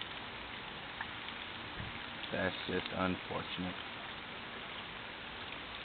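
Steady rain falls outdoors as a constant soft hiss throughout, with a voice speaking briefly over it partway through.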